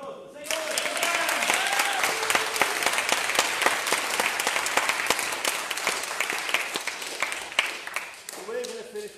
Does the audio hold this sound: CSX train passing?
no